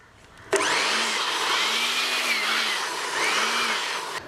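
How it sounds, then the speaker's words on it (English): A PC air blower blasts brake dust off a motorcycle brake caliper on a BMW G310 RR, switching on abruptly into a loud, steady whirring rush with a wavering motor whine that holds for several seconds. "I'm going to use my PC's air blower to remove the brake dust from this."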